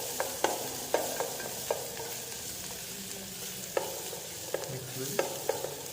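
Onion cooking in a pan for cream of mushroom, stirred with a wooden spoon: soft steady sizzle with sharp knocks and scrapes of the spoon at irregular intervals, close up, no talking.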